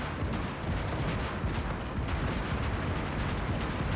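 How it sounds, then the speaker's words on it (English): Heavy bombardment in the WWII strategy game Gates of Hell, a continuous dense rumble of explosions and artillery blasts booming steadily throughout with no pauses, loud and close. "Oh, they're bombing the Statue of Liberty again."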